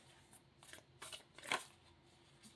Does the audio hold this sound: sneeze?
no